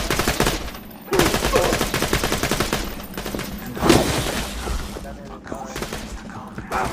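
Rapid gunfire in the shooter game Borderlands 2, heard as dense continuous automatic bursts with brief pauses, loud and close, mixed with game effects.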